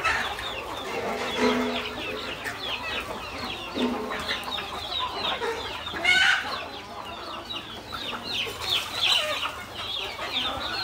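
Several free-range country chickens cluck and chatter close by in a busy, continuous stream of calls, with scattered higher squawks over a low background hum.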